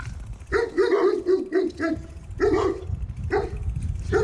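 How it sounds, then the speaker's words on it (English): A dog met on a snowy ride from Lithuania to Poland barks close by in quick bursts, several sharp barks grouped together, then more after short pauses, with wind and road noise underneath. "That's a mean fucking dog."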